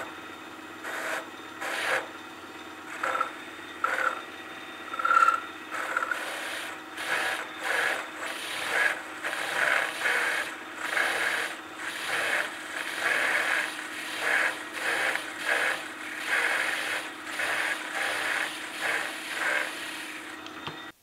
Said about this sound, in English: I'm just going to drill down a little bit the center for the rotor broach.